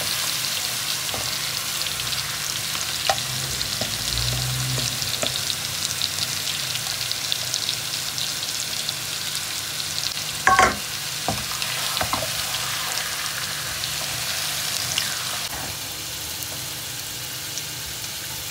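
Meat added to lightly browned onions frying in a pan, a continuous close sizzle with a few stirring knocks and a brief louder clatter partway through.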